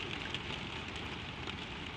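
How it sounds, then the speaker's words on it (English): Gentle rain taps softly and steadily on a glass skylight, drops falling in a continuous, even patter with no voices. "The taps on the glass come a little farther apart"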